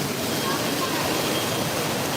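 Waterfall inside the Wonders of Wildlife aquarium and museum, a steady broadband rush of falling water filling the space at moderate level throughout.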